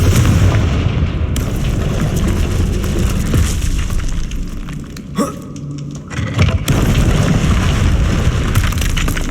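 A Confringo spell blast in the Hogwarts Legacy video game: dense, loud booming explosive bursts filling the whole stretch, with a brief dip midway before the rumbling impacts resume.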